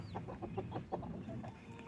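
Several free-ranging farm hens cluck in short, repeated bursts at a moderate distance, with a steady low rumble of background noise underneath.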